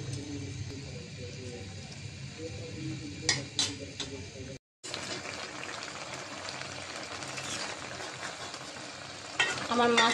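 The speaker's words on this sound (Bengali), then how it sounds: "এখন এর সাথে ভাজা মাছটা দিয়ে দিব।" Fried fish is stirred into a simmering curry in a pan: a steady bubbling sizzle with a few sharp scraping clicks from the spoon.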